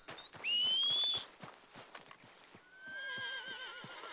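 Horse in the video game Red Dead Redemption 2 lets out two shrill whinnies, one early and one near the end, with clip-clop hoofbeats stepping steadily underneath.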